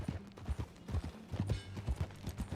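Horse hooves clip-clop steadily at a ride's pace in the video game Red Dead Redemption 2, with rhythmic thudding footfalls close by, light creaks of tack, and no voices.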